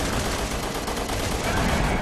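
Dense video-game gunfire from Resident Evil 6 crackles in a continuous loud burst over about two seconds, a close, noisy fusillade with no clear gaps between shots.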